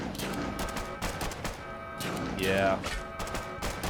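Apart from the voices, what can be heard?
gunfire from dwellers shooting raiders in the video game Fallout Shelter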